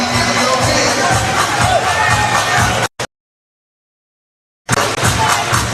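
A crowd at a men's Division 2 basketball grand final cheers and shouts as the team walks onto the court. The roar is loud and continuous and cuts out briefly to near silence partway through before it resumes.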